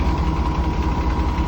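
2018 Peterbilt truck engine with an aftertreatment fault idling at close range, a steady loud low rumble with a regular throbbing pulse and no talk over it.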